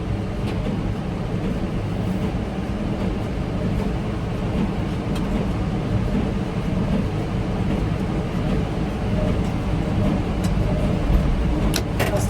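A tractor runs a hay baler through a field, its engine and machinery giving a steady, loud low rumble with a continuous mechanical drone and occasional clanks.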